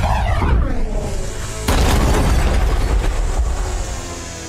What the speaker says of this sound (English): the world explodes in a crackling burst as a laser bolt erupts between them